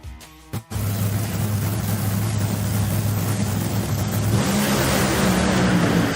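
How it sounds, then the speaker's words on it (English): Top Fuel dragster engines from the final-round run at the NHRA Midwest Nationals, a loud, sustained roar heard from a distance with one short break near the start, followed by a continuous drone that rises slightly toward the end. "let's get started with the Top Fuel final run highlight"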